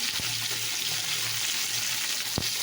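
Potatoes and tomatoes hit a hot frying pan and sizzle with a steady, close hiss, broken by a brief clink near the end, with no talking.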